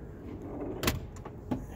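A suicide door on a 1961 Lincoln Continental convertible swings shut with one solid thud, followed by a fainter latch knock a moment later, heard fairly close against a quiet outdoor background.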